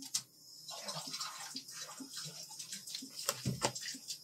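Water splashes and trickles into a dog's bowl indoors for a dog named Ike, a soft close running pour with small sloshes and a couple of louder clinks, fairly quiet overall.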